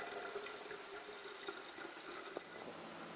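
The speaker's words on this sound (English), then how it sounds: "So the next thing to do is top it up with cold boiled water." Cold boiled water trickles and splashes faintly into a glass demijohn of elderberry wine, a quiet, continuous pour with a few small drips.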